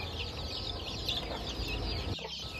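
A chicken at a poultry farm gives a short cluck near the end, close, over a dense, steady chorus of chirping and farmyard ambience.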